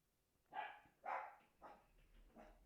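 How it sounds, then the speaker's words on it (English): A dog barks four times at someone at the door. The barks sound somewhat distant and quiet, evenly spaced and fading slightly, with no talking. "It's my dog screaming. Someone came to the door"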